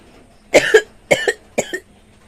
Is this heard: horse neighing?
no